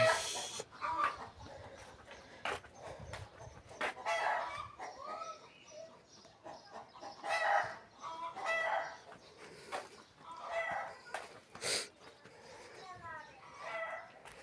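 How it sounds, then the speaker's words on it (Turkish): Hens cluck and squawk in a busy yard, with a rooster's crow breaking in and a voice speaking now and then. "Yumurtluyor tavuklar. Yumurtluyor."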